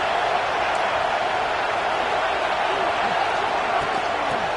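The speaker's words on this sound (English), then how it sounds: "Listen to the crowd energy here in the early going" Stadium crowd roars at a Penn State-Michigan college football game, a dense, loud, unbroken wall of cheering noise from a packed stands.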